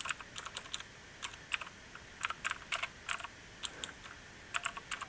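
Quiet bursts of keystrokes on a computer keyboard, clustered in short irregular runs with brief pauses between, soft and close with no talking.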